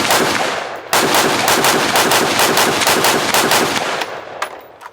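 A Law Tactical ARIC rifle fires rapid, evenly spaced shots, loud and close, with a brief pause near the start, then a steady string that thins and stops near the end.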